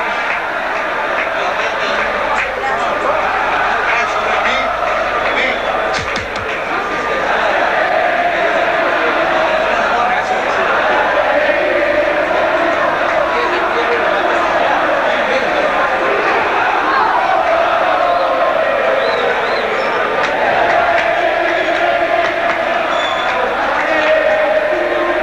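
Large rugby crowd in Tucuman, Argentina, milling about after a 1991 test match against the All Blacks, a dense steady roar of chatter and murmuring voices at close range, with no distinct cheers standing out, lasting throughout.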